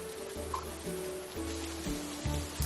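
Steady heavy rain outside a flooded train, a constant loud wash of hiss with a repeating low tonal pulse beneath it.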